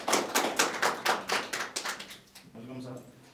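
An audience welcomes a speaker with rhythmic, unison clapping, fairly loud at first, then fading out as a voice begins to speak.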